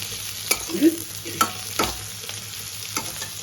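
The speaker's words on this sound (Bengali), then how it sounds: "পেঁয়াজগুলো একটু লাল লাল করে ভাজবো" Onions fry in a pan with bay leaf and dried chillies, a soft continuous sizzle punctuated by several sharp spatula scrapes and clicks, close and fairly quiet, with no talking.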